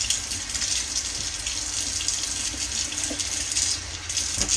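Tap water runs steadily into a kitchen sink, a continuous close hiss and splash with small shifts in flow and a few clinks near the end.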